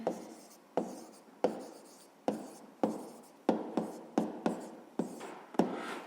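Handwriting on paper while a math answer is worked out for a fifth-grade exercise: a dozen brisk pen strokes, close and quiet, each with a crisp start and a fading scratch, the rhythm quickening toward the end.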